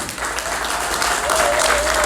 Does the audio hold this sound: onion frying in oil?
no